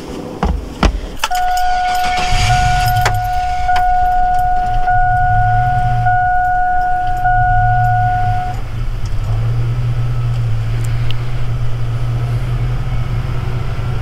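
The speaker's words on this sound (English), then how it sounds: "You see this truck's barely starting." A V8 truck engine cranks and struggles to start on a GOOLOO GP2000 jump starter, with keys jangling and steady tones at first, then a low, continuous rumble running close and loud to the end.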